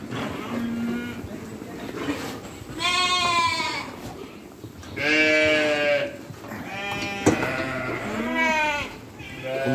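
Lambs bleating at feeding time, several long, loud bleats close by in a row with short pauses between them, with more calls in the background.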